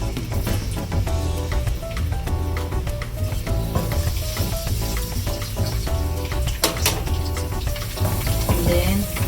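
Chopped garlic frying in hot oil in a pan for potato adobo, a steady close sizzle with scraping stirs, under a constant bed of tonal background music and no talking.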